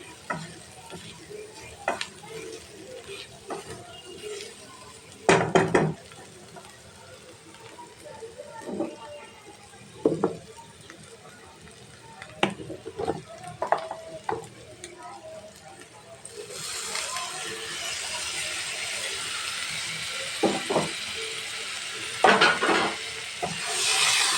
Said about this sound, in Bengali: এখন একসাথে ভালো করে আমি কষিয়ে নিচ্ছি।